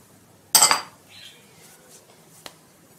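A utensil stirs a fish tray mixture with green pepper rings: one sharp metallic clatter against the tray, then softer scraping and a faint tick near the end, close and alone.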